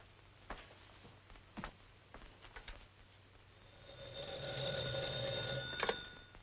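An old telephone bell rings out in a 1942 film noir, a sustained metallic ringing that rises after a few soft knocks and scattered background sounds.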